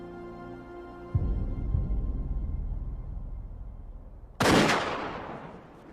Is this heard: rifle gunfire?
yes